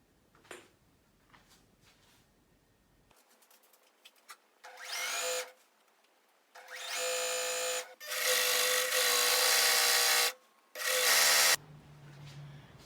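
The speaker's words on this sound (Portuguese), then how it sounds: "agora a gente vai para a máquina reta, costurar toda a extensão" A straight-stitch sewing machine runs along a fully lined teddy coat in several whirring bursts of increasing length, loud and close, separated by quiet handling noises and no talk.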